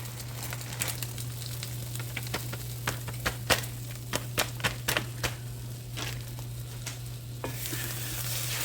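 Scrambled eggs with cheese cook in a pan on the stove, making a soft steady sizzle broken by repeated crisp scraping and stirring clicks, close up with no talking.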